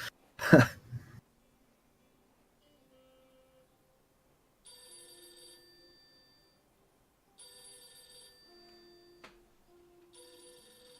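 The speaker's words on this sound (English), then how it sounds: "Phone call." During a session of the video game Golf Story, a throat clear or cough comes first, then a soft electronic ringtone chimes in three repeating bursts against near silence, the game's incoming phone call.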